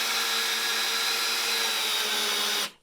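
A power drill runs steadily at high speed while driving a toenailing screw into a front step board, a loud, continuous whine lasting over two seconds before it cuts off abruptly.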